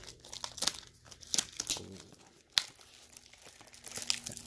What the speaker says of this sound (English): Let's see how difficult it's going to be for me to open it.